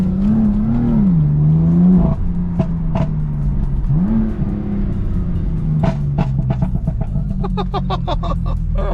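BMW M4 engine revving hard, a loud, close throaty roar that rises and falls in pitch twice, then settles into a rumbling idle broken by sharp crackles and pops toward the end.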